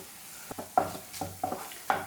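A utensil scrapes and taps in a pan as an egg mixture with spring onion is stirred, a few soft strokes at a steady pace over faint background hiss.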